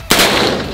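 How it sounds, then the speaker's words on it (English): A full-auto MP5 submachine gun fires a sustained burst outdoors, a loud continuous rattle of rapid shots starting abruptly after a brief quiet moment and holding steady to the end. "let's enjoy him shooting an MP5"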